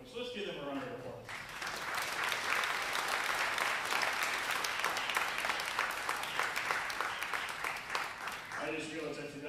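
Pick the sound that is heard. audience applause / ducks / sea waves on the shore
audience applause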